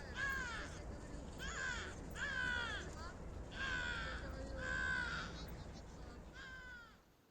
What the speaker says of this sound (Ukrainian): А тут ворони дратують собаку, яка вирішила їх поганяти.